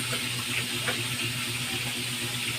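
Running water from a kitchen tap as squash is set to soak, a steady close hiss with a faint low hum and no talking.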